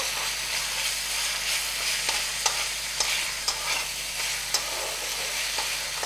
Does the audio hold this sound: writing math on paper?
no